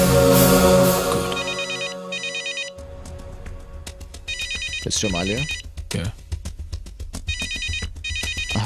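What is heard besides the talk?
telephone ringing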